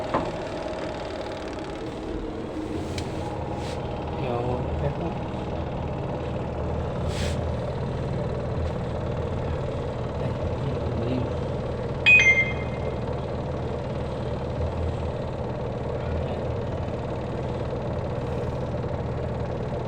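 A noisy spin dryer runs during a repair job, giving a steady, moderately loud motor whir and rattle with a few light clicks and a brief louder mechanical clatter partway through. No one speaks over it.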